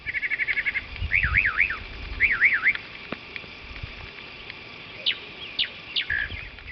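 A mockingbird mimics a car alarm outdoors with a fast run of repeated chirps, then rising-and-falling warbling sweeps, then a few sharp separate whistles, clear and fairly close over faint low background rumble.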